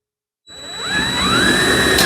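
Power drill boring into metal, a scrap-metal planishing hammer build, spinning up and holding a steady high whine with a rising tonal squeal as the bit bites, loud and close, no voices.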